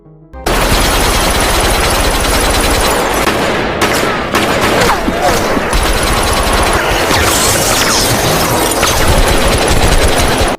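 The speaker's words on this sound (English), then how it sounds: "In the fierce shootout, Sun Woo is also wounded from being shot." Gunfire in a film shootout, with loud, dense bursts of automatic weapons and rapid shots crackling almost continuously for about ten seconds, joined by scattered booms and impacts.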